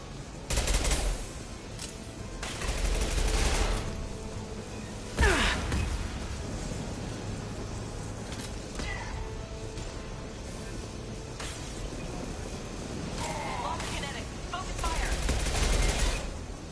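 Rapid bursts of game gunfire fired at a loose fuel tank in Mass Effect 2, crackling in repeated volleys over a busy combat mix, with speech breaking in between.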